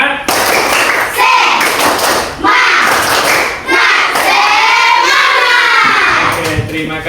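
A school class claps in rhythm during a lesson: loud bursts of patterned clapping and thumping come in rhythmic groups, separated by short pauses, with children's voices mixed in.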